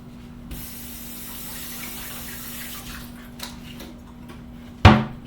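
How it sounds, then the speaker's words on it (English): Blueberries are rinsed under running water in a kitchen sink, a steady soft hiss of the tap spray at low level, ending with a brief louder splash or clatter near the end. "I'm just going to throw these underneath some water in my sink over there"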